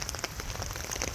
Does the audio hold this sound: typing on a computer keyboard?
no